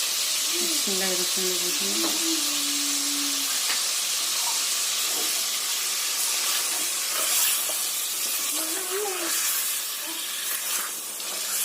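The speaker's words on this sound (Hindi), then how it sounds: "भुनेंगे इसको। ऐड करेंगे इसमें अपना प्याज।" Onions fry in a pan for a chicken and capsicum curry, giving a steady, broad sizzling hiss close by, with a voice speaking briefly over it near the start.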